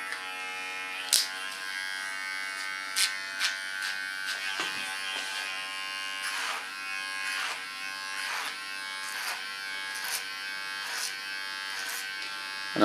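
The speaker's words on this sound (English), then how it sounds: "Use my clipper as a comb again." An electric hair clipper buzzes steadily while cutting a short platinum pixie, its constant motor whine broken by brief louder bursts as the blades pass through hair close to the skin.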